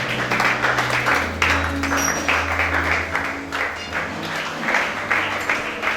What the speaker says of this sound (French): On acclame le roi.